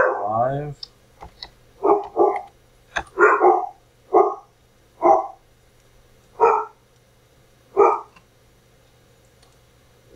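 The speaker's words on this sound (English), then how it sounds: "And my dogs are barking." Several dogs bark in a series of sharp, separate barks, about eight bursts spaced irregularly, fairly close and loud.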